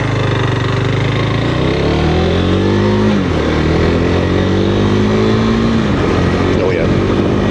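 A KTM 390 Adventure motorcycle rides along with its engine droning loudly and steadily, pitch rising and falling as the rider shifts and varies throttle, close up with heavy wind rush.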